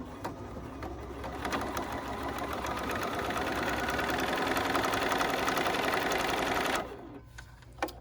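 A sewing machine runs steadily for several seconds, stitching fabric for a Swiss-patrol pin cushion with the needle just under an eighth of an inch from the edge, a close rapid mechanical whir that stops abruptly near the end.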